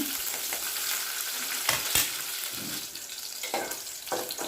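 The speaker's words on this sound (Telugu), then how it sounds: "పచ్చిమిర్చి వేగినాయి ఇవి వేరే గిన్నెలో వేసుకుందాం" Green chillies fry in two tablespoons of oil in a pan, a steady close sizzle with stirring scrapes and a few sharper pops, with no talk, while cooking for a raw tomato and coriander chutney.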